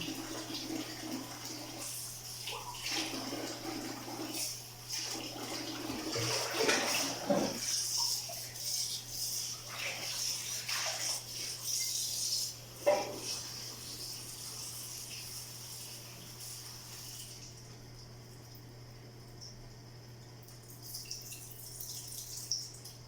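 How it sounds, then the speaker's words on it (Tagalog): Running water splashes and trickles as okra is washed in a basin, a steady close flow with drips and brief louder splashes, tapering to quiet near the end. "tayo ay maghugas ng okra"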